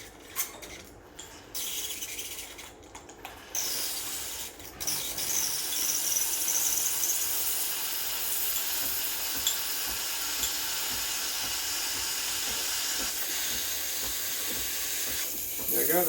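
Steam wand on a Breville BES870 Barista Express espresso machine warming up, a loud continuous hiss with a high squealing edge, sputtering at first, then settling into a steady full-pressure roar.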